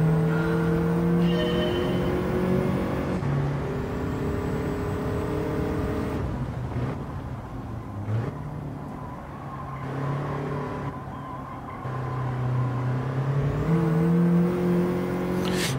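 A car in Gran Turismo 7 accelerates during a national A licence test, its engine tone climbing steadily and dropping back at each gear change, loud and continuous with no talking.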